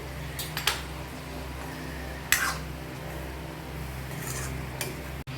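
Spice paste being stirred into a cooking pot, with faint scraping and a few sharp clinks of a spoon against metal over a low background hum.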